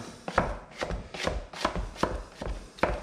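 A dough scraper scrapes flour off the sides of a bowl of pizza dough in a string of about seven close, rhythmic strokes, each a short rough swipe.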